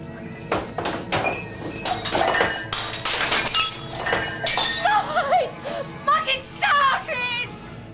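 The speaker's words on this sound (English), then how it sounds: "there's all the mugs all smashed" Mugs smash repeatedly in a pub setting, a rapid series of loud glass-and-ceramic crashes and clinks with scattered tinkling debris, mixed with voices.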